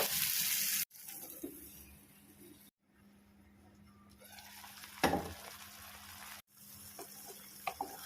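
Brinjal cooking in a pan with a little water under a lid, a soft continuous sizzle and simmer with a few clinks and stirring knocks, broken by short silent gaps.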